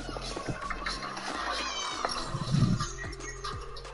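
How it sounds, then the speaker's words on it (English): An angry house cat lets out a short, harsh meow near the middle of the clip, rising above a steady background hum. "My cat's so mad."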